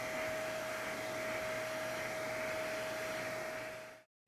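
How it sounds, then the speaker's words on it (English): A vacuum cleaner draws mold off paper artwork, its steady whining drone with a constant tonal hum running close and loud, then cutting off abruptly near the end. "So for paper, the technique is to move the head of the vacuum like this."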